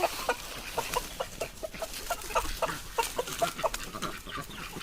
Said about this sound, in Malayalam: നമ്മളിപ്പോൾ ഇവർക്ക് ഈ ചക്ക ഇട്ട് കൊടുത്തിട്ടുണ്ട് എല്ലാവരും തിന്നണേൻ്റെ തിരക്കിലാണ് കണ്ടോ